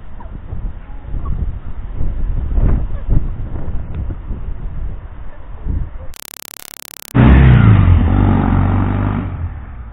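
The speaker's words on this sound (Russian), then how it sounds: "решил на моем мотоцикле прокатиться" A motorcycle rides and revs in a garage area, a steady engine drone that drops out for a moment before a louder, closer burst of revving takes over.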